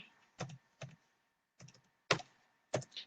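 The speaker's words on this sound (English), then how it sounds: "Oh, okay, I'm typing now." Typing on a computer keyboard, a few scattered keystrokes and clacks with pauses between them, close and fairly quiet, with no one talking.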